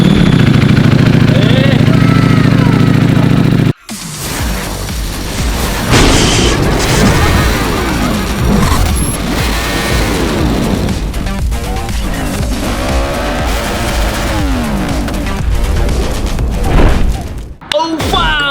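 A big bike motorcycle engine running close and loud, a deep rumbling drone with revving swells, interrupted by a brief cut and a thump, then running on with a short dropout near the end.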